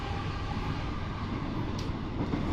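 A British Rail Class 321 electric train rolls between Stratford and Liverpool Street, heard from inside as a steady, dense rumble of wheels and motor with a faint high whine and no speech.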